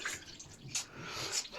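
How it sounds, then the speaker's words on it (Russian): Water splashing and pouring from a borehole into two buckets, close by, with uneven sloshing bursts and brief bright splashes over a low background. "Сейчас здесь со скважины наберу водички."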